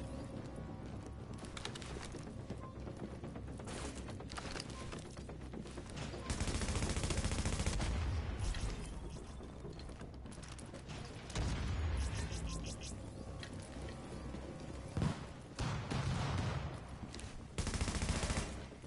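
Gunfire in The Division during an assault event, sustained automatic fire with dense crackling bursts and a few heavier surges, mid-distance and continuous, with occasional voices underneath.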